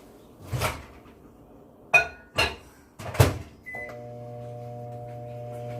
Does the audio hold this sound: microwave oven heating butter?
yes